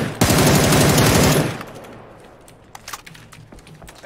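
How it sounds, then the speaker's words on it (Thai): Sustained loud automatic gunfire in PUBG, a rapid unbroken burst of shots for over a second that cuts off into quieter ambience with a few scattered clicks and distant pops. "กูขอลองยิงมัน"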